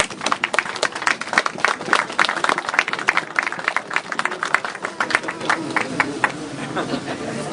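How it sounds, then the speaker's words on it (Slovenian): Distinct, somewhat sparse hand clapping from an outdoor crowd at a Christmas tree lighting in front of a wine cellar, individual claps audible in a lively irregular rhythm that continues steadily throughout. "Aplavz za takšno jelko,"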